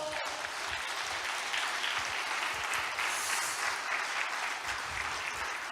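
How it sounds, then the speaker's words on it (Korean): Steady, full applause rolls through a Korean church congregation during a Sunday service, an even roar of many hands clapping together without pause, fairly soft in level. "박수 한번 보내주시기 바랍니다."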